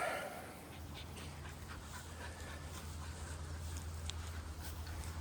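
A dog pants steadily and close by while playing with a ball at a July 4th party outdoors, the breathing carried over a low background hum with a few faint whimpers.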